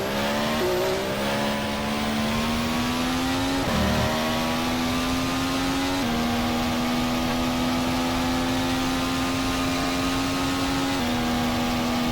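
A 2014 Formula 1 car engine in the rFactor racing sim screams at high revs, a loud, steady, whining tone that climbs through the gears with brief dips at each shift, heard alone.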